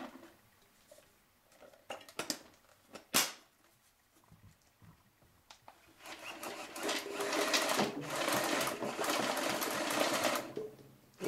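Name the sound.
Journey paintball hopper feeding with anti-jam motor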